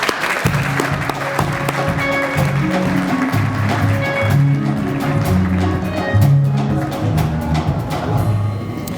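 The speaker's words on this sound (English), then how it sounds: "a round of applause for John Garang from South Sudan." Crowd applause at a pilots' graduation ceremony, ongoing clapping over a backdrop of steady music with a clear beat and melody.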